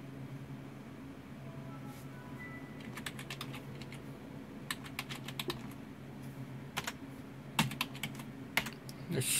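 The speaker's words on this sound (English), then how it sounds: "The C key on this old Dell keyboard's sticking." Typing on an old Dell computer keyboard with a sticking key, sparse clicking keystrokes in short clusters over a steady low electrical hum, growing a little louder toward the end.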